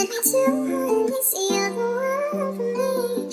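A sampled guitar passage run through Gullfoss EQ, Valhalla Vintage Verb on a drum air preset and iZotope Vinyl plays soft sustained chords with a gliding higher melody, steady and moderately quiet throughout.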